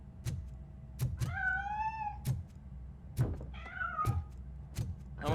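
A cat meows repeatedly in the video game Robocop Rogue City, two drawn-out, rising-and-falling cries separated by sharp knocks and thuds, fairly faint against a quiet background.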